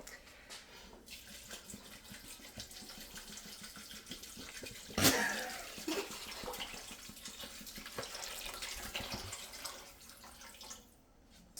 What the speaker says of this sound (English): go ahead and add the water